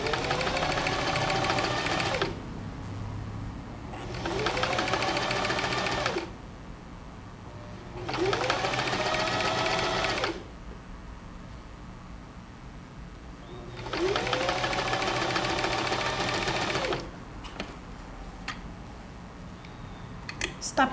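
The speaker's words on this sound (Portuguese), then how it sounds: "Está pronto, costurei a última barrinha." A sewing machine stitches orange patchwork block strips in four long, steady whirring runs of rapid needle chatter. Short pauses separate the runs, and the machine is close and fairly loud.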